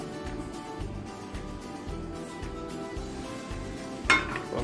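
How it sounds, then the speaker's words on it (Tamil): An iron dosa griddle set down on a stove, giving soft metallic clinks and scrapes with one sharper clank near the end, close by under low kitchen background noise. "தோசைக்கல் வச்சாச்சு"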